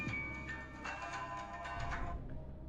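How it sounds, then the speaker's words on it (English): A telephone rings on a phone-in game show, giving a few soft repeated trilling electronic rings at a steady pulse, faint and alone with no talk over it. "So here we go, the number is ringing then."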